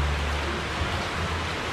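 Steady rain pours down outside, a dense, even hiss with a low rumble beneath, unbroken and without voices.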